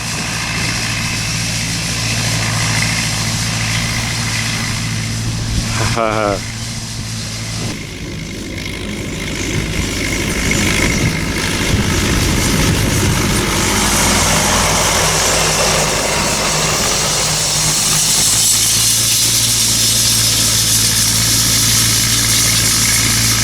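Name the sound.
vintage tractor engine running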